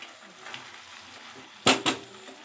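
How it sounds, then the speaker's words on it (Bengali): Prawns, taro and spinach are stirred in a pan over a quiet background sizzle, with two sharp, loud clanks of the spoon against the pan close together near the end. "এটাকে নাড়িয়ে নেব।"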